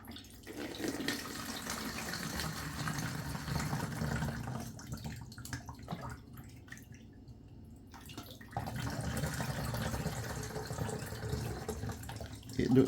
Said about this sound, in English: Let me put it inside this water bottle now.